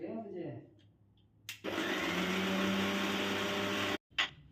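A kitchen mixer grinder whirs loudly for about two and a half seconds, grinding peanuts and roasted chickpeas with salt, then stops abruptly with a short restart; someone speaks briefly before it starts.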